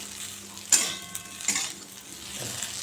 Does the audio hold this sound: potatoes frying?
yes